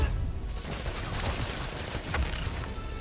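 Enemy gunfire in the Spider-Man: Miles Morales video game crackles as a continuous fusillade of rapid shots, dense and fairly loud, with no talk over it.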